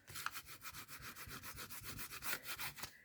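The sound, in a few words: rubbing washi tape to make it adhere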